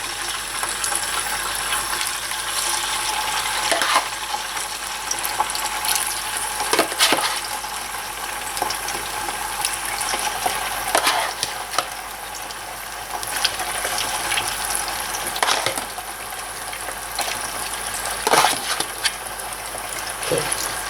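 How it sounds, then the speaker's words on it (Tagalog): Tofu deep frying in a pan of hot oil, a steady loud sizzling hiss with occasional crackling pops running continuously throughout, with no talking. "kailangan deep fry. Iluluto na natin yung tokwa."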